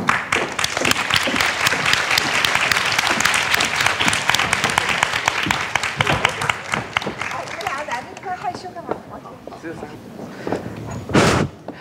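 A lecture-hall audience at an Asian university talk gives loud, warm, sustained applause welcoming speakers onto the stage, dense clapping that gradually thins into scattered claps before a final thump.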